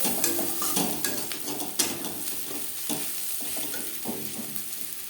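Sliced onions sizzle in hot oil as a spoon scrapes and stirs them around the pan, giving repeated scraping strokes over a constant crackling hiss.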